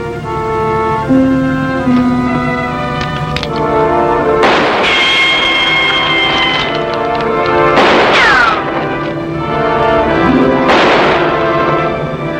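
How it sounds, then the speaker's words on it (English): Gunfire in a shootout from a classic western TV show, several sharp loud shots and crashes ringing out over a sustained orchestral score, with bursts around the middle and end. "He's still firing high."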